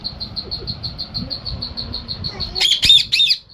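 A steady, rapid high chirping runs throughout, then a parrot lets out three loud, harsh squawks in quick succession near the end.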